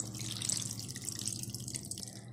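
Water pours into tamarind in a kitchen while fish curry is being made, a soft continuous trickle heard close by without speech.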